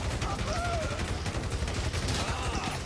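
Sustained automatic fire from an M4 rifle in GTA V, a dense burst of rapid shots rattling continuously for about three seconds, loud and close amid game noise.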